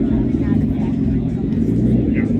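A BMW M3 idles at a Cars & Coffee meet in Manhattan Beach and El Segundo, a loud, steady low engine drone that runs under nearby talk and crowd noise.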